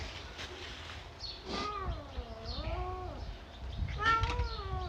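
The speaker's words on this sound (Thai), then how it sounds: "แมว" A cat gives a long, wavering meow, then a shorter second meow, both fairly close and clear over low background rumble.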